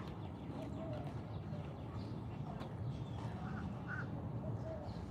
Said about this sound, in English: you hear the birds? They're all mad at me right now.